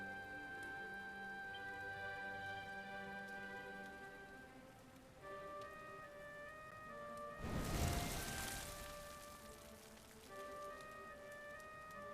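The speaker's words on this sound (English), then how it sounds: "Looks like the rain's dying down." Rainfall in the video game Dragon Quest XI, a soft hiss beneath sustained background music that swells into a brief louder wash of falling rain midway, then fades back.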